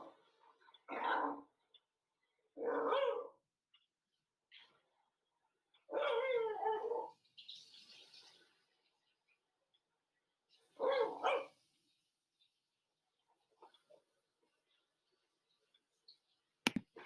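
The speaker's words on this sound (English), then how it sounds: "So that is the barking of a Dachshund." A dachshund barks four times at spaced intervals, sharp and clear against near silence, with a few faint clicks between barks.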